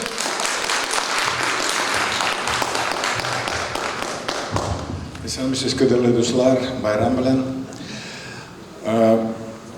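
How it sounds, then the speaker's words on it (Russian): An audience applauds as an actor is welcomed onto the stage at a Tatar cultural anniversary concert, with dense clapping for the first half before it thins into scattered claps and thuds under a man's speech. "Большие бурные аплодисменты."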